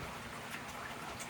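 Steady rain falling outdoors on an evening porch, a continuous close wash of patter with no break and no voices.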